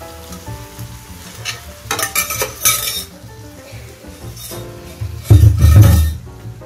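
Spiced chicken stuffing cooking in a pan over an open flame as stock is added, with spoon clinks and scraping, bursts of sizzling, and a loud hiss at the end.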